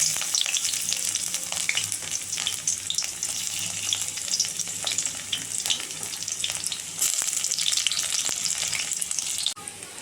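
Chopped garlic fries in hot oil with a bright, steady crackling sizzle that stays close and loud for about ten seconds, easing slightly just before the end, with no voices.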